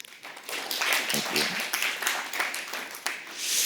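Audience applause for a speaker at a conference session on inclusive and sustainable early warning systems, a steady wash of clapping throughout, with a brief spoken thanks over it.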